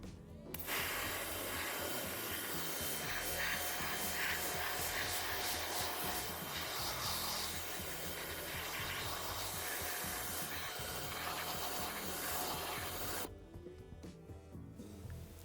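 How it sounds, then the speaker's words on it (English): A pressure washer sprays a car door during a citrus pre-wash versus snow foam dirt-removal test, giving a loud, steady hiss of water jet that runs continuously for about thirteen seconds before cutting off, with no talking. "Let's see if the pressure wash spray will do anything to it."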